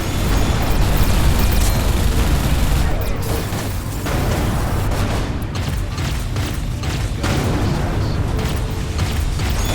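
Torpedoes burst in a barrage during a space combat fight in the game Everspace 2, a dense, continuous roar of overlapping explosions and rumbling booms filling the whole stretch.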